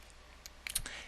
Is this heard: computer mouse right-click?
yes